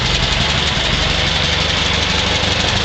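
A restored 1925 Ford Model T coupe engine running while the car backs up, a loud, steady, close mechanical chugging and rattle that carries on without a break.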